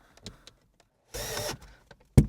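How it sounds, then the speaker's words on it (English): A power driver runs one short buzzing burst, driving a screw while a display is fitted in a BMW i3 interior, amid light handling clicks and a thump at the end. "Now I'm just gonna try to actually see what I'm doing so I can put the screws back in."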